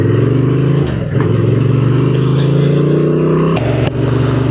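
The engine of a 2024 Honda Transalp motorcycle runs loud and close as a steady drone, with brief dips as gears shift.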